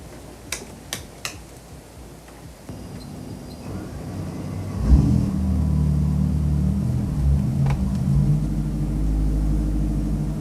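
A Koenigsegg Jesko's 5-liter engine accelerates hard, a low, loud, sustained roar building after a few sharp clicks, rising and holding steady through the rest of the run.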